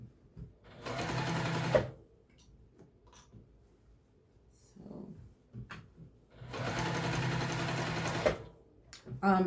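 A sewing machine stitches an apron seam in two sustained runs of steady, close whirring, separated by a quieter pause with light handling sounds.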